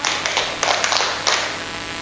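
Hands clap in a quick group rhythm during a classroom clapping game in a Year 7 madrasah lesson, a few distinct bursts of claps in close succession, fairly near.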